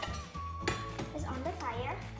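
Plastic toy egg being cracked in a toy kitchen during children's pretend cooking play, a few light clinks and taps with children's voices talking over it.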